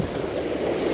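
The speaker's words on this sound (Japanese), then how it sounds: "この水しぶきで魚の活性を上げるというか、スイッチを入れるみたいな、そんな感じ" Steady splashing and churning of water on the sea surface at a deep rocky shore, whipped up to draw fish, a continuous close wash with no voices.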